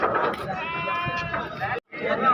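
Goats at a livestock market let out a wavering, drawn-out bleat of about a second amid a busy crowd murmur, with a brief gap before the market chatter resumes.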